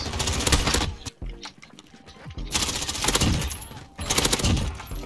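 Rapid automatic gunfire in Modern Warfare shooting through walls, loud bursts of close shots with a brief lull in the middle before the firing resumes hard.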